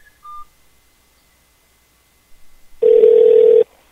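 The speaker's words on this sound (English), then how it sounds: "We're going to call you back on our phone." Telephone dialing to call back a caller on a radio show: a couple of short touch-tone beeps, a pause, some faint clicks, then a steady, loud tone lasting nearly a second.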